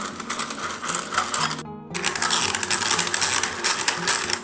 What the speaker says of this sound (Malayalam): ഇനി നമുക്ക് ഈ ബീറ്റ് ഇട്ടൊന്ന് ബീറ്റ് ചെയ്യാം